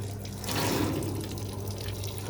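A washing machine under repair after a heating element replacement pumps out its water, a steady rushing gush that swells briefly then settles into continuous splashing flow.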